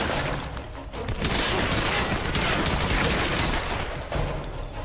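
Dense bursts of gunfire from the Tomb Raider video game, loud and close, a crackling barrage of overlapping shots that continues almost without pause.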